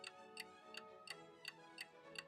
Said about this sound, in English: Tick. Tick. Tick. I watched the clock.